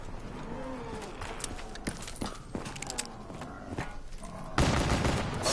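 Gunfire in the zombie mode Shadows of Evil crackles in scattered bursts of sharp shots over busy game noise, ending in a dense, loud roar of sustained firing.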